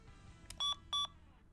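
An electronic device gives two short, loud, identical beeps in quick succession, preceded by a fainter click, over a quiet background.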